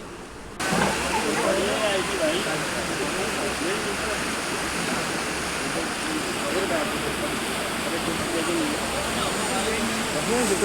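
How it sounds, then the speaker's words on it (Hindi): A swollen, muddy river after heavy rain at the Tanakpur Boom picnic spot roars in a dense, steady rush of water, loud and continuous from start to finish. "और देखो इतना ज़बरदस्त फ्लो है इस रिवर का, इतना पानी आ रहा।"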